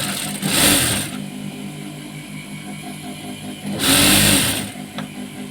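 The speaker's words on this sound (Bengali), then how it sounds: "এর ওপরে দিয়ে সেলাই দেবো এইভাবে দুটোকে আমরা" A sewing machine stitching petticoat panels together, two bursts of loud rapid mechanical whirring close by, separated by a quieter stretch of light handling noise.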